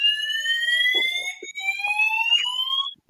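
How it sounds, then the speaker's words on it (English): A fire alarm sounds with a loud, steady electronic tone that holds for about three seconds and then cuts off, with brief muffled voices underneath. "Fire alarm there?"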